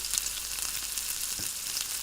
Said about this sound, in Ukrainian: Ми повинні відчувати, як е, масло кварчить.